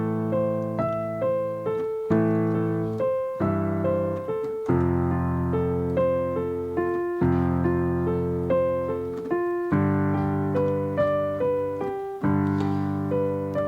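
Piano accompaniment played with both hands, sustained left-hand chords under a steady repeating six-beat right-hand pattern, clear and close, with no voice over it.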